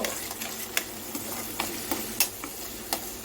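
Onion, green chilli and ginger garlic paste fry in hot oil in a pan with a soft continuous sizzle, broken by a few sharp spoon taps and stirring scrapes, close and moderately quiet.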